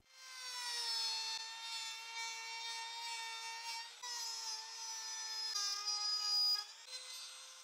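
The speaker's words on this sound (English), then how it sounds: "With the router in position, I can now make the cut." A router cuts through wood in gradual 5 millimeter passes, giving a steady, high-pitched whine with strong harmonics that dips slightly in pitch at a few moments, heard alone.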